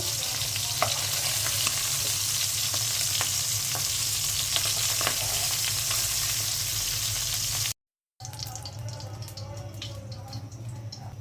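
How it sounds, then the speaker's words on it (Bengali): Lightly fried ail fish is turned in hot oil, a loud continuous sizzle with occasional stirring clicks; after a short break, quieter scraping and cooking sounds follow. "মাছটা হালকা ভেজে নিলাম, একটু মিশিয়ে নিচ্ছি।"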